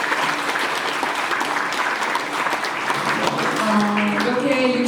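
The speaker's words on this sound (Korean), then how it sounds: "네, 뜨거운 박수 보내주시면 감사하겠습니다." An audience at a book launch applauds steadily and warmly throughout, a dense continuous clapping in a hall, with a voice starting to speak faintly near the end.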